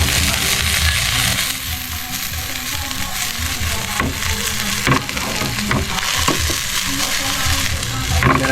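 Garlic frying in a pan for adobong pinakalit, a loud close bright sizzle throughout, punctuated by occasional clinks and scrapes of a utensil stirring.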